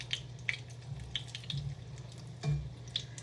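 Donuts frying in hot oil in an ordinary pan rather than a deep fryer give a steady, soft crackle over a low hum, with a few light clinks scattered through it.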